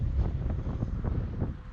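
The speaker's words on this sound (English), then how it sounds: "I don't like this amount of wind. Yeah, it's really gusting now." Gusting wind buffeting the microphone at an RC jet flying field, a loud, rough low rumble that swells and dips in uneven pulses throughout, with no one speaking.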